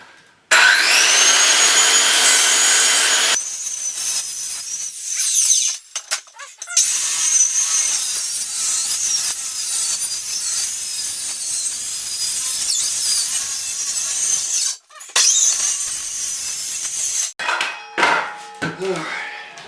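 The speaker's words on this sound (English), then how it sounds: "So I'll go ahead and just plunge cut right here on the line." A saw plunge-cuts along a line through a plywood bathroom subfloor in a mobile home, roaring loudly and steadily in long bursts with short pauses and scattered clatter between runs.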